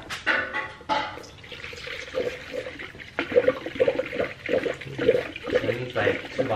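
Coolant glugs and splashes as it is poured into a car radiator in uneven bursts, with soft sloshing and a few clinks in between.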